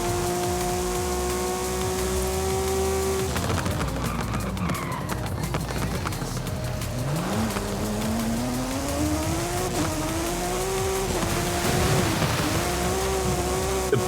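Volkswagen Amarok pickup with a twin-turbo four-cylinder diesel engine driving in Forza Horizon 5, a steady engine drone that rises and falls as it shifts and accelerates, with road noise and occasional tire sounds throughout.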